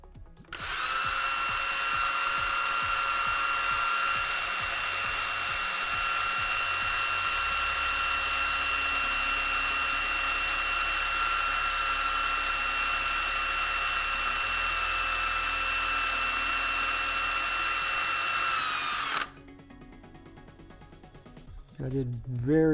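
A drill spins 1000 grit sandpaper to smooth Boba Fett costume armor, giving off a steady, high, whining hum for about twenty seconds before it cuts off. A brief rustle follows.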